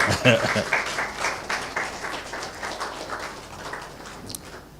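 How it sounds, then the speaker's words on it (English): An audience at a Ghana digital technology forum applauds in a sustained burst of clapping that fades gradually. "Let's give a round of applause to Mr. Engineer Dr. Mark Oliver Kevo."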